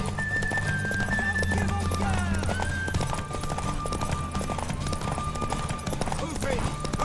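Horse hooves clopping along in a steady galloping rhythm in The Witcher III: Wild Hunt, layered with game music, a sustained low hum and scattered background voices.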